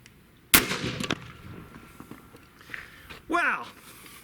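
A single sharp crack from a Zeus .72 caliber air rifle fired into three stacked 2x8 boards, one loud shot followed by quieter handling noise and a brief voice near the end.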